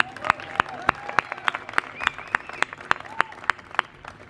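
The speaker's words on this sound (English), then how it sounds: "Can you guys join me in a big round of applause for Tommy Wells?" Crowd at an outdoor ribbon-cutting for a mixed-use development applauding Tommy Wells: sparse, rhythmic claps from a few nearby people ring out sharply over a softer spread of clapping, with voices murmuring underneath.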